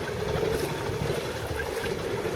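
Sailboat under way in a 12-knot east-northeast breeze off the Philippines, a steady rushing wash of water and wind noise running continuously with no voices.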